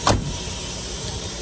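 A truck's electric windows winding up inside the cab, a brief motor whir at the start followed by a low, steady background hum.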